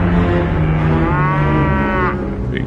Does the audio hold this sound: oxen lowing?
yes